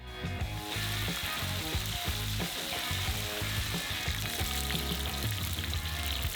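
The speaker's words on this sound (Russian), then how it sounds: "Просто жарим их до появления корочки" Steady sizzling of vegetables frying in a hot pan until browned, a continuous close-up crackle and hiss with no talking.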